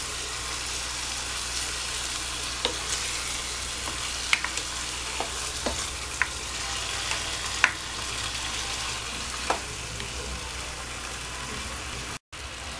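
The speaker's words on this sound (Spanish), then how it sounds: "Vamos a incorporar entonces el caldo de pollo." Chicken thighs fry in a pan as chicken broth goes in, producing a steady crackling sizzle with scattered pops and a few clicks, continuous until a brief dropout near the end, with no talking.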